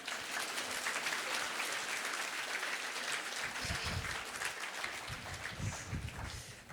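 A church congregation applauds and acclaims the Lord during an online French-language worship service, with dense, sustained clapping filling the room at steady strength throughout.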